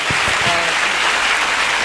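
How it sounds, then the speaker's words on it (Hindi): Audience applause welcoming a guest speaker at an IAS toppers' talk for civil services students, a dense, steady wash of many hands clapping at close range, continuous and loud for the whole stretch with no voices over it. "जोरदार तालियों से स्वागत कीजिए"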